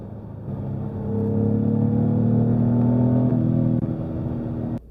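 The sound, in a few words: Jaguar F-Type engine in sports mode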